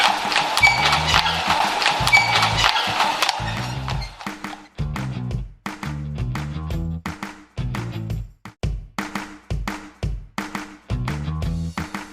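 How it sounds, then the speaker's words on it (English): Horse hooves clip-clop steadily from a horse-drawn cart, a close, rhythmic run of sharp knocks repeating throughout with no voices. "Horse cart."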